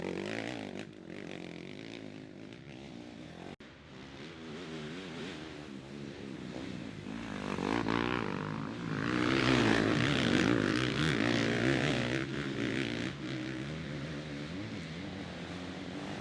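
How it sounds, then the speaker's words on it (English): A Kawasaki off-road racing motorcycle at full throttle during a GNCC cross-country race at Snowshoe. A droning engine whine rises and falls steadily, swelling louder midway as bikes pass. "the top 10 was Liam Draper and Grant Baylor, the South Carolina native keeping his Kawasaki throttle locked behind the Yamaha rider"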